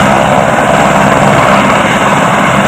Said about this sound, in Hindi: हेलीकॉप्टर फिर आ गया।